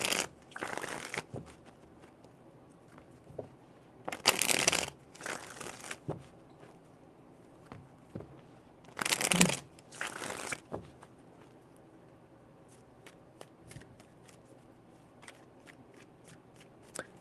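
Tarot cards being shuffled in three separate bursts of riffling, crisp and close, with quiet pauses and faint handling noises between them.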